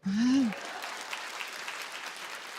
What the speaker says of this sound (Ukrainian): Добре, аплодуйте.